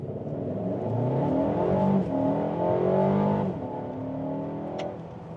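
Mercedes-Benz GLA 250 with 224 PS accelerating hard from a standstill, a loud engine note climbing steadily in pitch through a shift or two, heard from inside the cabin with no talk.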